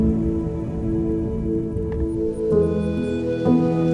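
Steady rain pours onto surfaces in a constant wash, with a low sustained tone underneath and a few brief clicks near the end.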